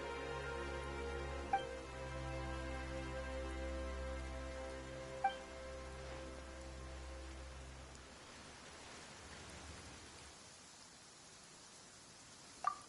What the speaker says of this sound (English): Why is it raining all...